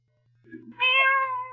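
A cat meows loudly and close by, a drawn-out tonal cry after a brief softer chirp, set in an old radio drama with a steady low hum underneath.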